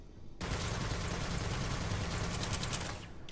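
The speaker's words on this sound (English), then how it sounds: "I quite like that you can basically hold down the trigger to fire" Rapid gunfire from a video game weapon with the trigger held down, a loud, continuous stream of shots rattling steadily for about three seconds before cutting off, with no talking.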